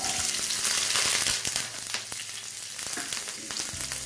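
Steady sizzling and crackling of onions and cumin frying in hot oil, close and continuous, with occasional pops and clinks of stirring.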